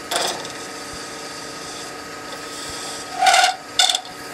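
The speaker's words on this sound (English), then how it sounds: "Then I'll go back and recut this. I'm using a little Robert Sorby multi-tool." A small Robert Sorby multi-tool recuts wood spinning on a lathe, making short, close scraping bursts, one at the start and two near the end, with a low hum between them and no talking.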